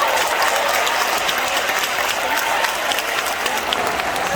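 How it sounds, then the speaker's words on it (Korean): Hearty applause from a large crowd at a Gyeonggi Province church prayer rally commemorating the Korean War, steady dense clapping that fills the whole stretch without pause, loud and continuous. "뜨거운 박수"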